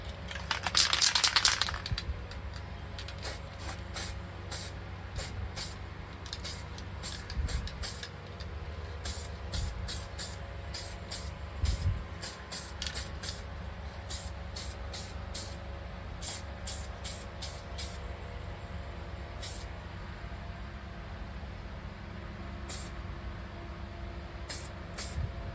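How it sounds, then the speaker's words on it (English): A spray can of weld-through primer gives a short, sharp hiss at the start, coating car brackets during an LS swap in a Monte Carlo. Scattered light clicks and rattles continue over a low garage background. "I'ma spray the bottom side of both of the brackets with a little weld through primer"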